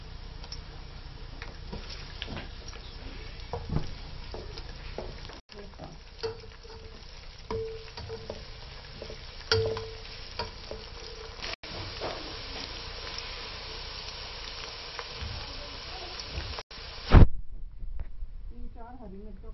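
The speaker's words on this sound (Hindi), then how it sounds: "1 कप ऑयल लें और उसमें प्याज फ्राई करते हैं।" Sliced onions frying in a cup of oil for Pakistani potato rice, giving a continuous soft sizzle and hiss with occasional stirring knocks, a few short breaks and a sharper thump near the end.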